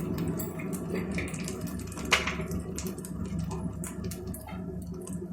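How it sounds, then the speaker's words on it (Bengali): A small amount of water is poured into a bowl of turmeric and chili powder, giving a faint wet trickle and splash with a brief louder spill midway, over a steady kitchen background. "মশলার বাটিতে জল দিয়ে দিচ্ছি সামান্য পরিমাণ"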